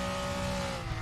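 A car engine revs hard toward 9,000 RPM in an on-board racing run, its steady high-pitched drone loud and continuous throughout with no talk.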